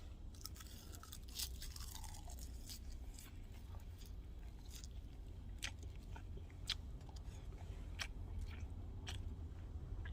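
Close, quiet chewing and crunching of grilled pork belly (samgyeopsal) eaten outdoors on top of a vehicle, with repeated bites and soft mouth sounds over a low steady background rumble.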